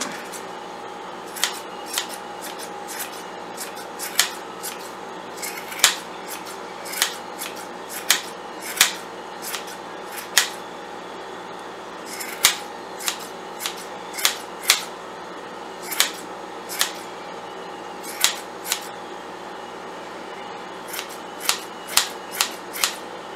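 Sharp metallic snips of scissors trimming the yarn of an extra-large pom pom, coming in irregular bursts of quick cuts close up over a quiet background, with no voices.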